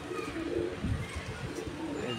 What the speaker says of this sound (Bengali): এই যে কবুতরটা, মাশাআল্লাহ।